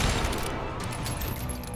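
Rapid gunfire rattles continuously in the Western shooter game Call of Juarez Gunslinger, a loud, dense burst of overlapping shots filling the short moment.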